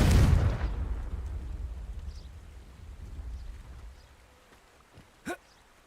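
A Confringo blasting spell explosion in the Hogwarts Legacy video game: a heavy, loud boom up close right at the start, trailing into a long low rumble that fades, then a short sharp pop near the end.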